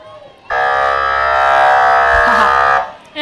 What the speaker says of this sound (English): I'm sure all the kids love the sirens